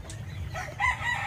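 Brief crowing and clucking from a chicken on a farm where turkeys are also kept, close by and over a low rumbling background.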